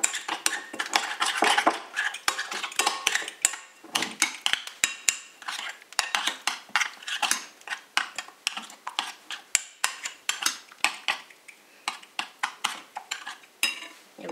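A spoon clatters and scrapes briskly against a bowl while a soy sauce marinade is stirred for a family barbecue, with rapid irregular clinks running continuously and close throughout.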